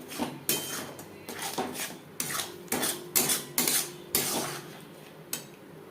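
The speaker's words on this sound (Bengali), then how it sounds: "এভাবে নাড়াচাড়া করে দিতে হবে" A spatula scrapes and stirs green banana peel paste in a wok over high to medium flame, sounding as a series of rhythmic rasping strokes, fairly close and clear, with no talking.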